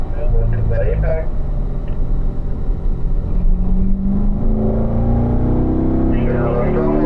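A race car accelerates on throttle and shifts up to fourth gear, its engine note climbing steadily in pitch with a rising whine. A driving coach talks over the engine throughout.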